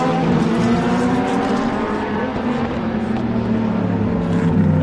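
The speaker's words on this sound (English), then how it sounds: "The Corvettes really rumble" Deep engine rumble from Corvette race cars sweeping past, loud and steady, with the drone shifting as they go by.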